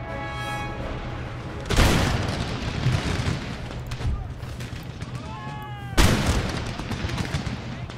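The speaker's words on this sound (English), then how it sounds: "Has their artillery started firing? Yep." Enemy artillery fires in Empire Total War during a siege on Paris, with two loud booming blasts several seconds apart over a constant battle din, with voices heard faintly in between.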